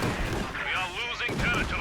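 In a Company of Heroes 2 match, a major artillery barrage rumbles steadily with repeated booming impacts. A voice talks over the dense, continuous shelling.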